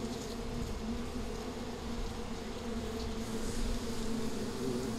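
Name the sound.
honeybees buzzing around hive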